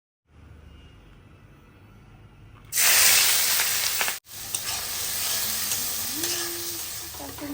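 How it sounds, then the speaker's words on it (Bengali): Eggs hit a hot pan and burst into a loud, bright sizzle after a quiet start, briefly cutting out before the steady frying hiss resumes and carries on. "এই যে এখন আমি ডিম ভাজবো"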